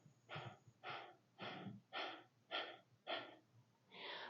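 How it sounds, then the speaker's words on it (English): Quick, forceful exhalations during a yoga breathing exercise come in a steady rhythm of about eight bursts, each a short close breathy puff, with no talking. "Really taking care to draw the navel into the spine on each little exhalation."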